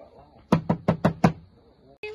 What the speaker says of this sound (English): We're gonna knock.